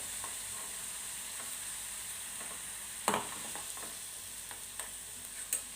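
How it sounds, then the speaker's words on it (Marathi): Food frying in hot oil gives a faint, steady hiss close by, with occasional light clicks and scrapes of a utensil against the pan. "तर चला मी आता हे फ्राय करून घेते"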